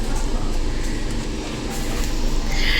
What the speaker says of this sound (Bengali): দেখতেই পাচ্ছ বন্ধুরা, আমাদের ট্রেন ছেড়ে দিয়েছে।